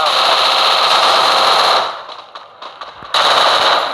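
Rapid automatic gunfire in the mobile battle game Free Fire, loud continuous bursts that break off briefly with scattered shots before resuming, with a voice speaking over it.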